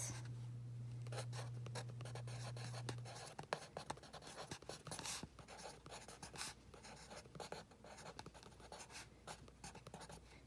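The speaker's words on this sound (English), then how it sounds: "along the side, I'm going to write" A pen scratches on paper while a bar graph is labelled by hand, with quick irregular strokes and taps close by. A low steady hum at the start drops away after a few seconds, leaving the strokes clearer.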